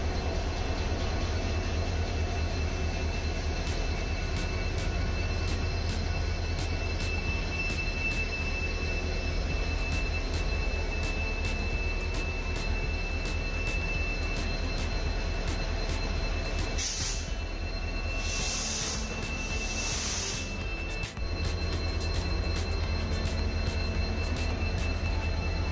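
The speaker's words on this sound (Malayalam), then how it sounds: "ഇപ്പം നേരെ കണ്ടോ, ട്രെയിൻ ഇനിയും തിരിച്ച് നേരെ അങ്ങോട്ടേക്ക് പോകും." A train engine runs along the Nilambur railway line, giving a steady, loud, close rumble with rhythmic clicks of wheels over rail joints and brief high squeals near the end.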